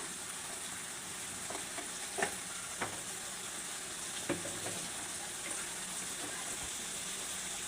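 Spices fry in a pan while being stirred, prepared for cooking beef tripe, giving a soft, steady sizzling hiss with a few scattered scrapes and clicks of the spoon, fairly quiet and without speech.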